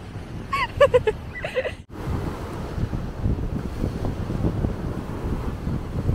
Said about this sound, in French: il y a du vent, hein, ça caille